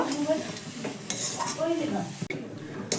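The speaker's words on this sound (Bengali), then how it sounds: "এবার ঢাকনাটা তুলে নিয়ে আবারও খুব ভালো করে একটু নাড়াচাড়া করে দেব" A spoon stirs cauliflower in a pan after the lid comes off, with short scraping and clattering against the metal over a soft sizzle and a few sharp clinks, close and moderately loud.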